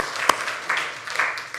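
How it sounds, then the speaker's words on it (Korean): A church congregation claps in praise during a New Year's Eve worship service in Suwon, a moderate wash of clapping with one sharp near clap, swelling and fading in waves. "우리 하나님께 영광의 박수"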